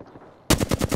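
Automatic weapon fire in the video game Apex Legends, a sudden loud rapid burst of shots that starts halfway through after a quiet lead-in.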